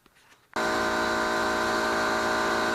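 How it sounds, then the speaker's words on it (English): A loud, steady mechanical drone with a dense harmonic whine kicks in abruptly after a brief quiet moment as an air compressor starts, running continuously, close by. "Now let's hook up our compressor."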